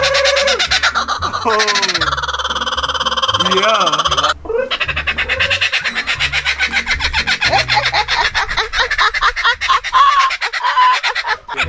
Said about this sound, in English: That's a kookaburra from Australia.